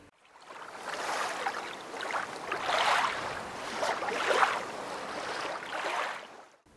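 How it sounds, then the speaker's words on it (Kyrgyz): Lake waves wash in soft, rolling surges, several gentle swells rising and falling at moderate distance, fairly quiet with no voices. "көлдүн толкуну"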